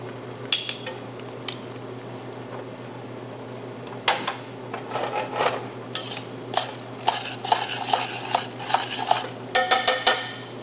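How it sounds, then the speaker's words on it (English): Cooked clams from a linguine alle vongole are lifted out of the pan onto a small plate. Shells and utensils clink and scrape in scattered bursts over a steady low kitchen hum, close by. "we will actually take the clams out, put them on a little plate"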